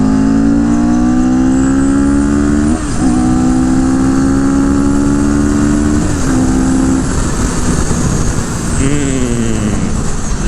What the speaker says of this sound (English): Once you get into that power band, it just accelerates immediately.